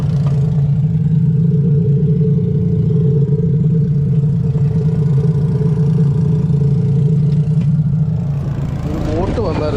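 A motor boat engine drones steadily and loudly on the water near a fishing spot, a low continuous hum that fades slightly toward the end as rippling water and clatter come in.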